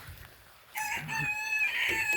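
Chickens clucking and calling close by, a steady run of vocalizations that begins after a brief quiet moment.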